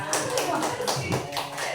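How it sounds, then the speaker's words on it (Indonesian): A small audience of adults in a training session claps, a close, brisk run of individual hand claps that lasts under two seconds, with no talk over it. "Tepuk tangan dulu Bapak Ibu ya"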